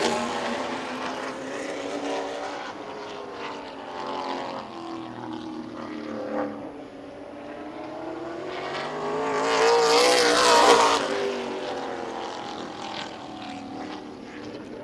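The number 11 race car roars through a qualifying lap at Birch Run Speedway, its engine pitch rising and falling through the corners and swelling to a loud pass around the ten-second mark.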